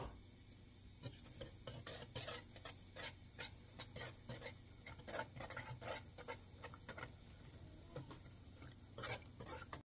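Heavy cream and parmesan sauce is whisked in a pan, giving a quick rhythmic scraping and swishing over a low sizzle, close and fairly quiet, with no talking.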